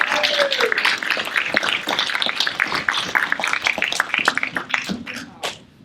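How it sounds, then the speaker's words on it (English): Sustained applause from the audience at a school sports awards presentation, dense overlapping claps with a few sharper individual hits, fading out at the end. "Please give them a round of applause."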